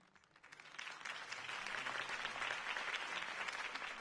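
Crowd applause swells from a scattered start into sustained, dense clapping at a political campaign rally for Harvey Dent in a Batman video game, loud and steady with no voices over it.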